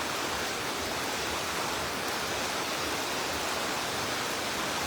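Steady rain falling, a dense, even hiss that holds constant throughout with no talking and no distinct drops standing out.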